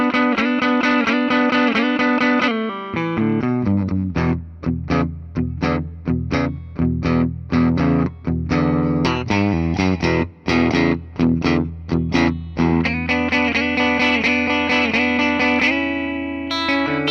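Electric guitar, a Gibson Les Paul 60s Standard with gold hardware, played through distortion and effects: a sustained chord, then a run of sharp, rhythmic chopped notes, and ringing chords again at the close, loud and up front.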